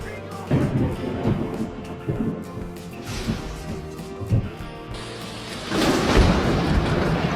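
Deep rolling thunder from a lightning strike near a car waiting at a red light, with a low sustained rumble, several louder cracking surges, and a broader roar swelling near the end.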